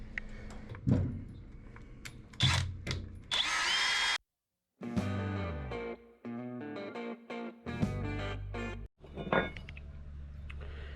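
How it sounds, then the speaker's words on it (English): A power drill whirs in several short bursts enlarging rivet holes in an aircraft firewall, stopping and restarting, with a loud close-up motor whine and brief pauses between runs. "Now we need to up drill it to the rivet size."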